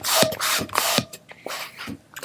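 A hand pump inflates a gray 350 modelling balloon in rhythmic rasping strokes, several squeaky pumping bursts close up with no speech.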